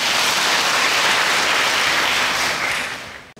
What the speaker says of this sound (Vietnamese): Chúng ta cho một tràng pháo tay.